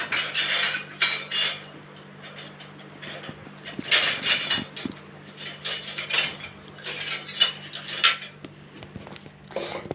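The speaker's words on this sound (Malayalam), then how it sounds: "പിന്നെ നമ്മൾ ഇളക്കി കൊടുക്കുന്നുണ്ട്, മിക്സ് ആവാൻ വേണ്ടിയാണ്." Fish with turmeric is stirred in a heated pan, giving repeated metallic scrapes and clinks of a utensil against the cookware in short irregular bursts, close and fairly quiet, with no talk.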